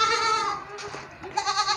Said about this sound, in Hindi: ये टैडी बकरा है।